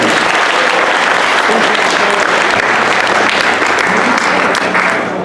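Loud, sustained applause from a large audience fills the space, steady throughout and tapering slightly at the end.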